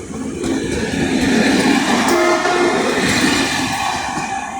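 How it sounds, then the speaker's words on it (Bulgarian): A train pulls out of Iskar station in Bulgaria, its steady rolling rumble and wheel noise filling the scene at close range, with a sustained horn tone sounding midway through. "И така си замина влака."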